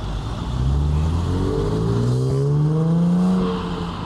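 A six-cylinder car engine revs at an outdoor car meet, its pitch climbing in smooth rising sweeps that hold loud and close for several seconds.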